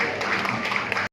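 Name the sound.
applause for the winners at a para sports event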